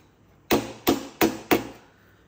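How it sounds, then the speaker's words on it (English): A hammer gives four light, evenly spaced taps on a 4L60E transmission part during a shift kit install, sharp close knocks each with a short ringing decay, no voices. "just gonna give it a few little tappy taps"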